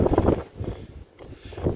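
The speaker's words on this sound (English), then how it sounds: "As you may be able to tell, it's rather windy" Strong wind blows outdoors during roadside repair work on a Ford Focus ST, rumbling and buffeting the microphone in uneven gusts, loud and close throughout, with no talking.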